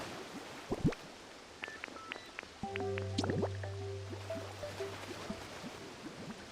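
Water pouring and dripping in Pokopia, a trickle of liquid with scattered drips running under clicks and sustained game tones, quiet and near.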